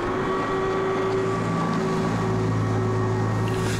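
Steady, loud motor drone from a motorboat passing close to a windsurfer on open sea in light wind, a continuous engine hum with tonal whine and broadband wash throughout, no voices.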